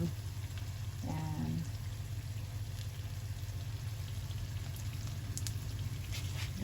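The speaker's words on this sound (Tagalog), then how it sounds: "sobrang lakas ng hangin at ulan" Heavy rain pours down in a constant wash, with wind adding to the steady roar throughout.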